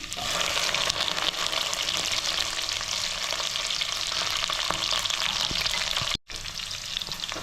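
Okra fries in a pan for Kerala sadya-style sambar, giving a loud, continuous sizzle with stirring noises and a brief drop-out near the end.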